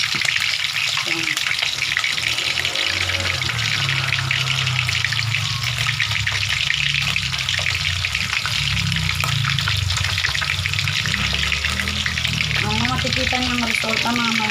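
Dried milkfish (daing na bangus) fries in a pan with a continuous crackling sizzle, and a voice speaks briefly toward the end.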